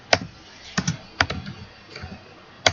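Code is typed on a computer keyboard in a quiet room: sparse clusters of crisp keystrokes in irregular bursts, close and moderately soft, with brief pauses between them.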